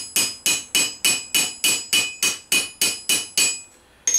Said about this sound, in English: every time you've gone around, just give it a couple of hits on the top